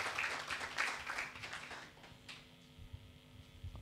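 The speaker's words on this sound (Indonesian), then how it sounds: "tepuk tangan bagi Yesus" A church congregation claps for Jesus during a Christmas service, with dense, fairly loud applause for about two seconds that thins out into a quieter room hum.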